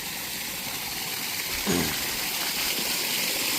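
Water gushes steadily into an open well on agricultural farmland, a loud continuous rushing flow heard close up with no one talking.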